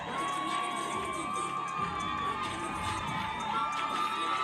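A team of supporters cheering and shouting for a female boxer making her first fight as she enters the ring at an amateur arena event, a steady wash of crowd noise throughout with children's voices, while a voice speaks over it.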